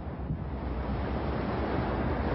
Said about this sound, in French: La commune de Mers-les-Bains a vu déferler des vagues de plusieurs mètres dans les rues.